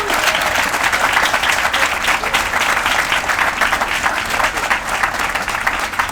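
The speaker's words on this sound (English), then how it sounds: "maybe we can do one clap for the King Boston team" A groundbreaking ceremony audience gives a round of applause for the King Boston team, with dense, steady clapping that stays loud throughout.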